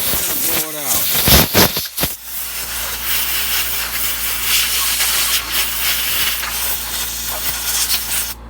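Compressed air blasts solvent out of a pistol barrel as a loud, sustained hiss that starts with a few short bursts and then runs on steadily.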